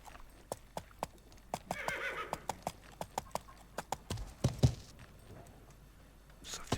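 Horse hooves clip-clop at a steady, evenly spaced pace while riding in the medieval game Life is Feudal, with a brief snort or whinny near the end and nobody talking.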